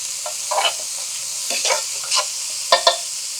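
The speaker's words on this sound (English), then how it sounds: "So in go the ginger, jalapeno, garlic. And I'm just going to lightly saute this a little bit." Ginger, jalapeno and garlic sizzle lightly in a hot skillet, a steady soft frying hiss broken by several brief scraping stirs of a utensil, close up with no talking.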